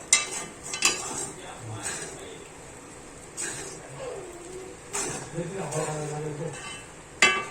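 A spoon stirs salt into sabudana potato khichdi in a pan, with scraping and occasional metal clinks arriving in uneven strokes, while faint talk murmurs underneath.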